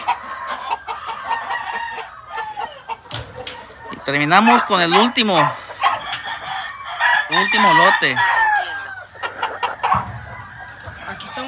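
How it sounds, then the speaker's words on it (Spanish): Claret hens and roosters on a farm cluck steadily and a rooster crows loudly twice in succession, with someone talking over the birds near the start and end. "Muy bonitas esas gallinas, unas claretitas, unas claretas."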